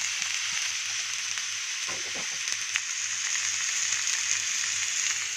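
Lottia dried fish paturi wrapped in gourd leaves fries over low heat, giving a steady soft sizzle with a brief clatter of handling in the middle.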